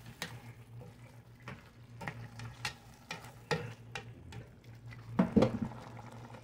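A spoon stirs chicken in tomatoes in a pan, scraping and clinking at a moderate pace, with soft sizzling and a louder knock of the utensil against the pan near the end.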